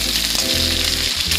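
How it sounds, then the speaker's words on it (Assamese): Onion, bay leaf, nigella seeds and chilli fry in hot oil for a pumpkin leaf curry, a loud continuous close-up sizzle with a crackling hiss. "এনেকৈ ভাজিলোঁ"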